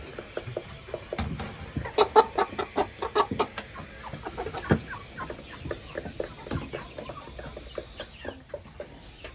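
A rooster clucks in short, repeated calls close by while being put into its cage, with rustling and handling noises in between.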